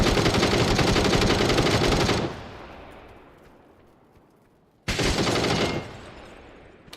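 Rapid automatic gunfire in PUBG rattles loud and dense for about two seconds, fades into a decaying echo, then a second sustained burst erupts and cuts off again.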